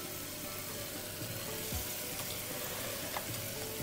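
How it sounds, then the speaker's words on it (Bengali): Potatoes frying with chicken in spice paste, a continuous soft sizzle with a few faint stirring scrapes, steady and fairly quiet throughout, with no talk. "এরপর এর মাঝে আলু দিয়ে দিচ্ছি"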